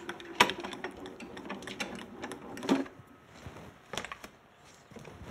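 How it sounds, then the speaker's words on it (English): A Grand Calibur die cutting machine runs as a crafting sandwich of cutting mat and base plate feeds through, making quiet mechanical whirring and clicking with a few louder knocks at close range. "cutting mat and our base plate, and run it through the grand caliber"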